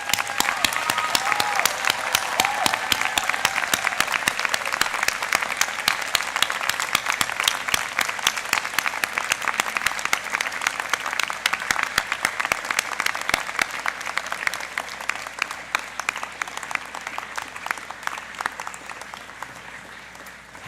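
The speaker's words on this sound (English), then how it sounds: "giving them a big round of applause" Sustained applause from a large university convocation audience, a dense continuous wash of clapping that stays strong throughout and only slightly thins toward the end.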